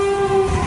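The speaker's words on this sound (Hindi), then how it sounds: "वो देखो सामने से रेलगाड़ी आ रही है" An approaching train sounds a loud, sustained horn, a single steady blast with a rumbling low end underneath and no speech.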